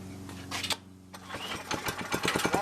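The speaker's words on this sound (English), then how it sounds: "so we can rev up the engine without it moving" Small go-kart engine, belt removed, pull-started and then revved in a series of quick, rising bursts. A brief sputtering pull comes first, followed by a lull, then choppy revving that grows more frequent toward the end.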